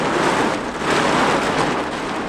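Heavy rain hisses in a dense, loud, continuous wash, pouring down without pause and with no voices over it.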